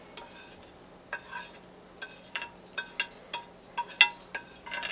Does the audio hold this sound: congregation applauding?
no